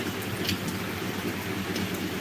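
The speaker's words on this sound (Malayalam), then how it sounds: "പക്ഷെ ഇപ്പോൾ നല്ല മഴ ഇരുന്നുണ്ട്" Heavy rain pours down in a dense, steady hiss, with scattered louder drops spattering close by and no voices.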